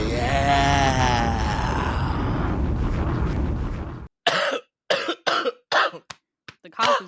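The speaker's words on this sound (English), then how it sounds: "The cough is real this time." A person speaks briefly, then lets out a run of about seven sharp, separate coughs, close and loud, with short gaps between them.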